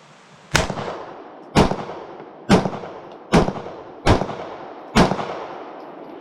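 A Mossberg MC1sc 9mm pistol firing one Winchester 115 grain ball round followed by five Federal bulk ball rounds: six sharp, evenly spaced shots about a second apart, each with a short decaying echo.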